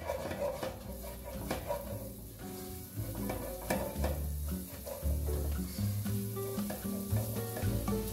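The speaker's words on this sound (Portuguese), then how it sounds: "nessa mesma panela, eu já vou colocar o alho" Garlic sizzles in a pan that has just held bacon, a steady close frying hiss with scattered crackles, spoon stirring clatter and a few clunks of cookware throughout.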